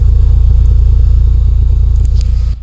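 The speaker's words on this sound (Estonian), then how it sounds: "Kuulete, kuidas nurru või? Olete te 27 aasta vana auto" A 27-year-old Audi's engine idles close by with a heavy, even, pulsing low rumble, then cuts off abruptly just before the end.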